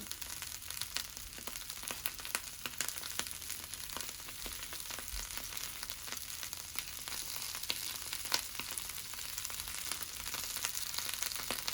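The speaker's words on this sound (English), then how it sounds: "You hear the crackle? Yep, there we go. So let's grill some kale." Kale with garlic crackling on a hot grill, a dense steady sizzle peppered with many sharp little pops and crackles, close and continuous with no talk.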